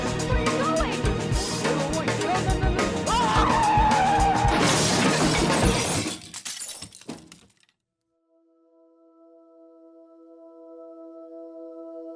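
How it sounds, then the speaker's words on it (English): A car skids with a rising squeal and slams head-on into another car, loud and close, with a shattering crash that fades into near silence, followed by a steady tonal hum. "His vehicle collides head-on with Alex's car"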